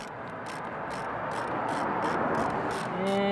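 A wrench works loose a car's engine temperature sensor, giving close ratcheting clicks and faint metallic scraping that run throughout at a fairly even level.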